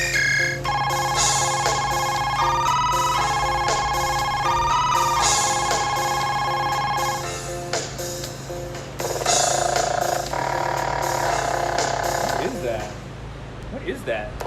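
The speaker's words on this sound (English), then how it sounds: "Phone ringtone." A synthesized phone ringtone from a folding 88-key keyboard's sound bank plays repeatedly in short melodic bursts of electronic tones, with brief pauses between phrases and a faint hum beneath.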